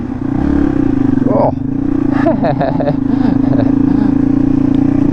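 A motorcycle engine drones steadily while riding on snowy black ice, with a constant low hum close by and brief clattering and a short voice exclamation over it.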